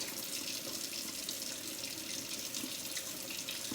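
A sink tap runs in a steady, close hiss as hands are rinsed under the water during handwashing in a lab.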